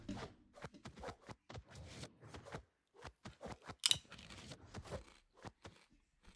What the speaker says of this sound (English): y'all can hear me crunching that chip